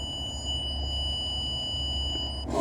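Multimeter continuity tester on a 2007 Lexus ES 350 starter solenoid circuit, a steady high electronic tone with faint rapid pulsing over low engine-bay hum, ending in a brief louder clatter.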